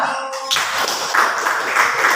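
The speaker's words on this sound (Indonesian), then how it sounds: "Tepuk tangan dulu" A classroom of children claps together after a teacher's prompt, a dense patter of hands starting abruptly and holding steady at moderate loudness for a couple of seconds.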